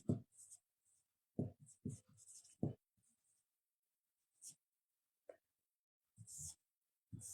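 Marker or chalk writing on a board during a live English grammar class, heard as short scratchy strokes in several bursts separated by quiet gaps, with no talking over it.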